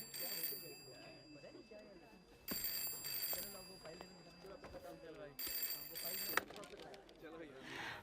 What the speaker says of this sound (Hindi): फोन बज रहा है तुम्हारा, उठाओ।